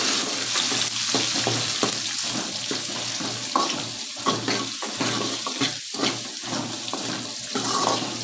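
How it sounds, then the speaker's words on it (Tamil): Onions and green chillies fry in oil with mustard seeds for a potato kurma, making a dense, steady sizzle up close. Frequent stirring scrapes run through it and no one speaks. "அடுத்து வெங்காயம் பச்சை மிளகாய் போட்டுக்கலாம்."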